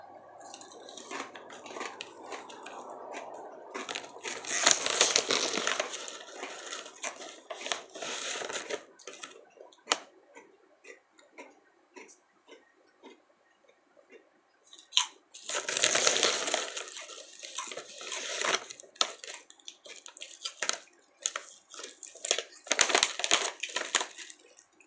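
Dill pickle Crispers crackers crunched while being eaten: bursts of close, crisp crackling chews separated by quiet pauses, with no talking.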